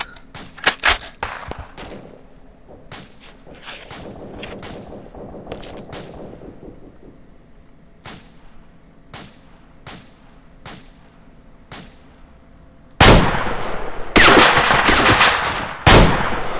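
Gunfire in the video game ARMA 2: scattered single shots crack at irregular intervals, then sharp bursts of heavy automatic fire near the end, with no talking.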